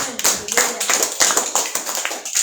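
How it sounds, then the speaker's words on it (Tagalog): A church congregation claps at a Sunday service, a loose, fairly close burst of hand claps with irregular accents spread through the clip and no clear speech over it. "Palakpak po sa Panginoon."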